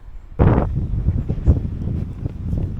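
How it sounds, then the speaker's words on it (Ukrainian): Strong wind buffets the microphone with low, rumbling gusts, opening with a sharp loud blast and continuing in uneven roaring surges. "Вже такий вітер, що вже стойку мені знесло."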